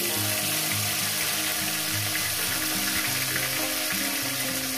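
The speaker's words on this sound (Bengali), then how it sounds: "টমেটোটাকে দিয়ে মিনিমাম আমি এখানে 1 মিনিট ভেজে নেব।" Tomato pieces sizzle steadily in a hot pan with bay leaves and fried cumin, a loud, dense crackle that runs unbroken from start to finish with no talk over it.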